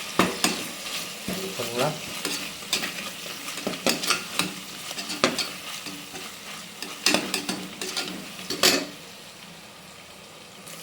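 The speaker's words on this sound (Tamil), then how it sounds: "தக்காளி போட்டு நல்லா வதக்கணும்." Chopped tomatoes sauté in hot oil in a pan, sizzling steadily with repeated scraping, clattering stirs close by, and one brief spoken word near the end.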